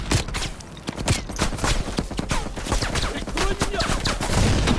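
Machine gun fire in the Call of Duty Cold War campaign comes as dense, rapid bursts of sharp shots mixed with battlefield clatter, loud and continuous.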